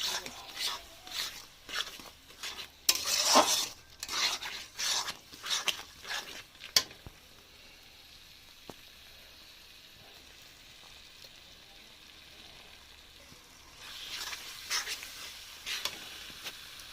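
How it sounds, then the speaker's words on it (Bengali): Cumin, ginger and garlic paste sizzles in a pan while being stirred, with repeated scraping strokes in the first half, a quieter low sizzle in the middle, then more stirring near the end. "জিরে বাটা আদা বাটা রসুন বাটা সব এখন দিলাম দিয়ে এটা একটু ভালো করে কষিয়ে নিয়ে"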